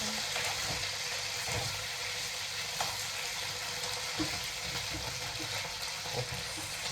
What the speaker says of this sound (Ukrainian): Ой-ой-ой, як шкварчить боже.